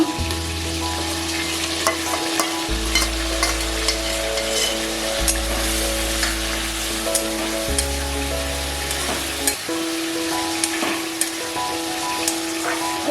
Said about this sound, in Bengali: এরপর দিয়ে দেবো আমি যে মশলাটা পেস্ট করে রেখেছিলাম সেই মশলাটা এতে দিয়ে দেবো।